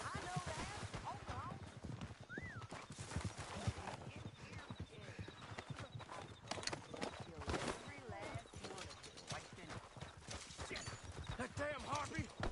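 Horses gallop with steady clip-clop hoofbeats in the Red Dead Redemption 2 video game, running continuously under frequent character dialogue and game sound.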